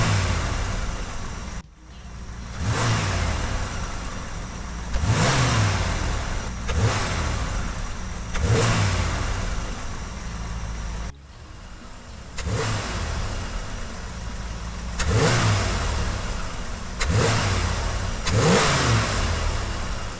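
Car engine in a Trans Am fitted with an aftermarket open element air cleaner with the lid flipped, revved repeatedly in about seven strong blips that fall back to a rumbling idle, loud and close with no talking.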